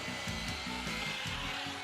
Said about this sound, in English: the motor on this thing is pretty damn noisy